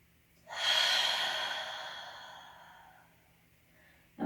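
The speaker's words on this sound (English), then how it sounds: "Take another deep, full breath." A single deep, full breath during a hatha yoga stretch, a long airy inhale-exhale swelling then slowly fading, close and soft, followed by the start of another breath.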